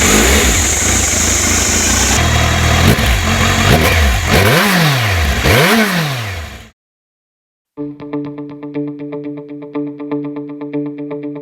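A Kawasaki motorcycle engine revs loudly several times, pitch climbing and falling, then drops out briefly before settling into a steady, close idle with light throttle blips.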